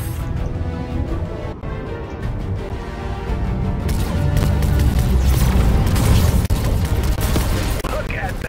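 Rapid bursts of weapon fire and booming blasts from the battle bus laser cannons in Fortnite, loud and continuous, with a dense chaotic mix of shots building in the second half.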